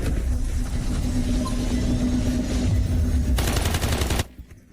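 A rapid burst of automatic gunfire from a PKM machine gun in the video game Delta Force rattles over a constant low rumble, then cuts off abruptly.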